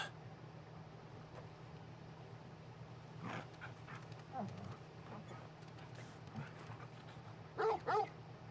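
A dog in a video game barks and yips in a few short bursts over a steady low hum, with two sharper barks near the end and a voice speaking faintly.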